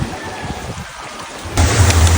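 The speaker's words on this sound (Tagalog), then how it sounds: "patuloy pa rin ang paglakas ng buhos ng ulan" Heavy typhoon rain from Typhoon Kristine pours steadily in a dense, close hiss, surging louder near the end with a deep rumble underneath.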